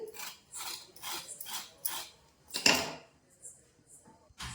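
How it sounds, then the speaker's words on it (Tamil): A knife repeatedly scraping the ridged skin off a ridge gourd, a series of short, bright rasping strokes with brief pauses between them, close and fairly clear. "முதல்ல இந்த பீர்க்கங்காயில் இப்படி ஒரு கத்தியை வச்சு இப்படி சரவிக்கோங்க"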